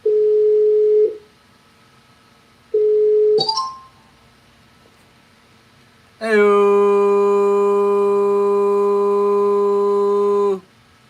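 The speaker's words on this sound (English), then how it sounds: "Oh, it's ringing." A telephone call rings in two short ring tones separated by pauses, then a loud, sustained harmonic tone holds for several seconds.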